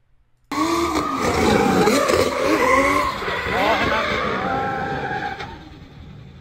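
A car skids before hitting a wall: sustained squealing tires and engine roar with sweeping pitch fill several seconds, with talk mixed in, fading out near the end.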